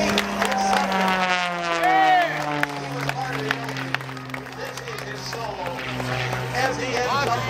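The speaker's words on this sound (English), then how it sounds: "Give this young man a big round of applause." Crowd applause and cheering for an air guitar performer at a contest, a dense, steady wash of clapping and shouts with a loud voice carrying over it throughout.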